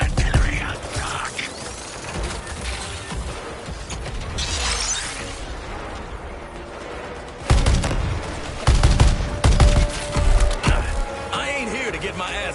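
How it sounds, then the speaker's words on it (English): Artillery fire in the video game Suicide Squad, with mechanical clanks, bursts of gunfire and heavy impacts in a busy mix, loud and close, under game voices talking. "Firing on point! Focusing artillery on rock."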